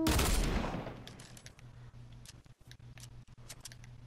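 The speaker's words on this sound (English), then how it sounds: "I was just shooting at random." A loud burst of gunfire opens a 1v1 playground-mode shooting video game match, then fades into quieter scattered clicks and distant shots over a low steady hum.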